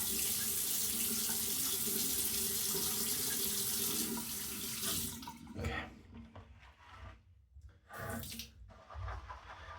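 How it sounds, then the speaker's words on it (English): Water runs steadily from a tap for several seconds, then cuts to intermittent splashing and dripping as it is scooped and splashed; a brief spoken word. "A little bit more water splashing noises too."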